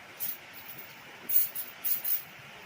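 PB Blaster penetrating oil sprayed from an aerosol can onto rusty, stuck carburetor parts, heard as four short hissing bursts, the first brief, then three more close together, fairly quiet against a low background.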